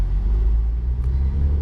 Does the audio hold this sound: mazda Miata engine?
yes